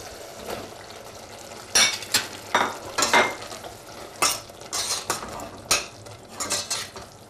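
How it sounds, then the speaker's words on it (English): Cubed aubergine stirred into a simmering spiced turmeric curry sauce, with repeated scraping and clinking strokes of a utensil against the pan over a low bubbling sizzle, close and fairly loud, no talking. "Mix it in well and let it simmer for a while."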